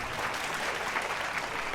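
Audience applause at a fashion show, a steady wash of clapping from a crowd heard at moderate distance for a brief moment.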